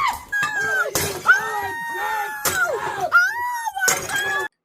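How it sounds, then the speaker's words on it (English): A house door and a toilet are smashed up indoors. Several loud crashing impacts break through piercing, drawn-out screams and shouting voices. "in these new videos, they smashed up parts of their house,"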